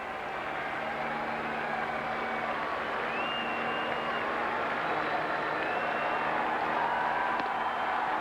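Bleacher fans applauding and rising in a standing ovation at a Texas vs Boston baseball game, a steady, even wash of crowd noise and clapping from a distance for the whole stretch, with no break.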